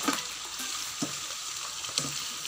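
Radish, mustard greens, onion and tomato are stirred in a hot pan, giving a steady close sizzle broken by a spoon scrape about once a second.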